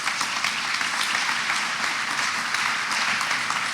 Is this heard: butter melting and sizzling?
no